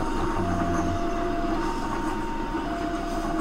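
A passenger train travelling from the direction of Jakarta rumbles past on the railway near Tajursindang, Purwakarta, a continuous close, heavy mechanical roar with a faint whistle-like tone over it.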